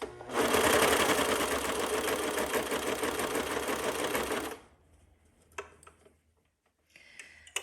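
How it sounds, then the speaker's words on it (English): A sewing machine top stitches binding on a cami dress, running in a loud continuous whir for about four and a half seconds, then stopping, followed by a few faint handling clicks. "you're just going to want to slowly go around and top stitch this binding in place"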